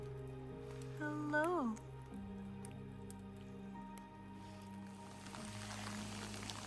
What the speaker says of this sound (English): The rain just picked up.